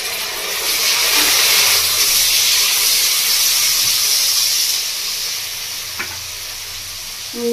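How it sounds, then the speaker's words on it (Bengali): A spoonful of vinegar hits vegetables frying in a pan for chicken fried rice, setting off a loud, steamy burst of sizzling that holds steady and then eases slightly, with a faint clink near the end. "এবার আমি এর মধ্যে দিয়ে দেবো ভিনিগার, এক চামচ মতো ভিনিগার দিয়ে দেবো।"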